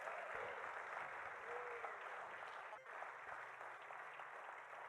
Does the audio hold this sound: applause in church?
yes